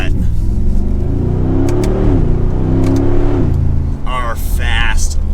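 A Mercedes-Benz G63 AMG engine rumbles and revs through its exhaust, a loud, deep, close drone that swells and settles, with a few brief voices near the end.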